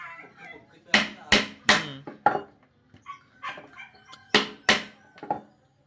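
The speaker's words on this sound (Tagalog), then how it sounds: "Dagitaman nga pag martilyo." Sharp, loud hammer blows strike in irregular bursts, a few quick hits at a time with short pauses, close by.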